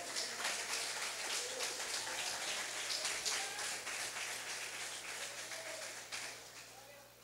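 A church congregation applauds in steady, dense clapping that fills the whole stretch without a break, with a voice carrying over the top.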